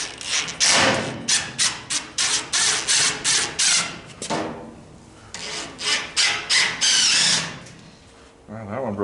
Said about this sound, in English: Drill another hole that'll break a screw here.